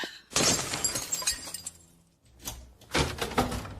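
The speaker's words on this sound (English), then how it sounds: "I'm going to have to break the glass" Glass in a door smashed and shattering, a loud burst followed by scattered falling shards, then a second loud crash of breaking glass a moment later.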